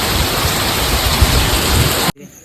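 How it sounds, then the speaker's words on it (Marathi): Heavy monsoon rain roars loud and dense over house roof tiles, a thick steady wash that cuts off abruptly near the end. "खूप भयानक पाऊस लागलेला आहे"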